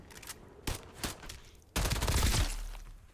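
Rapid automatic gunfire from a shooter game, a few spaced shots followed by a loud sustained burst emptying a 30-round magazine, close and dominant.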